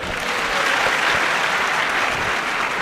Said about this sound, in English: If there's any more clapping, I ask everybody to go away.